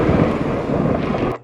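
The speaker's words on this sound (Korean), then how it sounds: "이렇게 큰 천둥 소리가 들리면서" Loud thunder rolls as a dramatic sound effect, a dense, continuous rumble with a windy, stormy roar that holds steady before cutting off sharply at the end, heard alone without speech.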